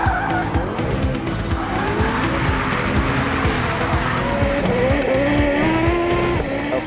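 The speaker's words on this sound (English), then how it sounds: "it's a spectacular looking car that makes a lot of sound" A racing car at a Wembley, London show event drives hard with loud, continuous engine roar and repeated tire squeals and skids, close and dominant throughout with no talk.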